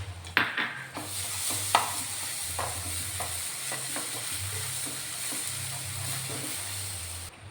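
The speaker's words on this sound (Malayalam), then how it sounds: "ഒരു മീഡിയം ഫ്ലെയിമിലിട്ടൊന്ന് വറുത്തെടുത്താൽ മതി." Rice roasts in a pan over a medium flame, a soft sizzle under repeated dry scraping and stirring strokes, with a few sharper knocks of the utensil against the pan.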